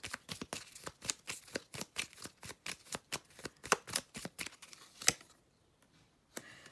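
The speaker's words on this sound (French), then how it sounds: "je prends encore quelques cartes" Tarot cards being shuffled and drawn for a reading, a long run of crisp, evenly spaced snaps and flicks close by, then a short silence and one last card slap, with no voices.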